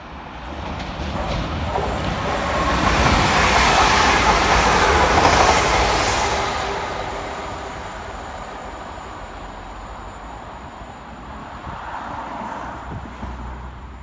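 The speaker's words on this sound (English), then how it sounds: "Next flying its way through the station is 196108, working 1 Victor 24 for West Midlands Railway from Birmingham New Street through to Hereford." West Midlands Railway unit 196108 speeds through Barnt Green station, its roar and wheel noise swelling to a loud peak as it passes close by, then easing into a lingering rumble as it moves away.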